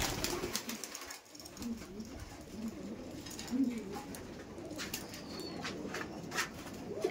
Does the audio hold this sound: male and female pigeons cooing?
yes